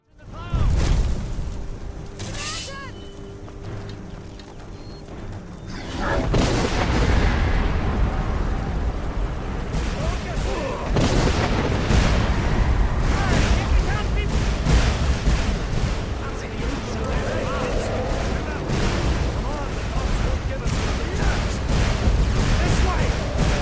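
Skyrim dragon attack: loud booming blasts and fiery explosions in continuous chaotic rumble, with dense crashing bursts and voices mixed in.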